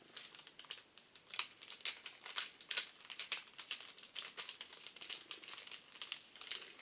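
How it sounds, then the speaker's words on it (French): Decorative gift paper being carefully peeled and unwrapped from a mailed package, giving steady, close crinkling and rustling with small sharp crackles throughout, quiet and without talk. "On ouvre le deuxième paquet."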